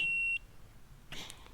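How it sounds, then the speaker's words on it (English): A continuity tester gives a single short electronic beep at the start while checking ignition points on a Saladin armoured scout car, then quiet room noise and a brief clatter of handling near the end. "The beeping is it creating a circuit, continuity between the points."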